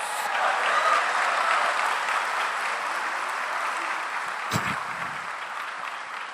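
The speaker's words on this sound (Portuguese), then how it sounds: "Você pode aplaudir o Senhor e dizer glória a Deus" A church congregation applauds in a steady, sustained wash of clapping that fills the room at moderate loudness, with no voices over it.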